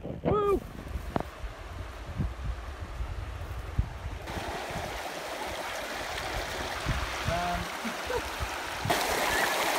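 River water runs steadily through the whole stretch on a New Zealand tramping trail in Abel Tasman, a broad rushing wash with wind buffeting the microphone and a few faint voices in the background.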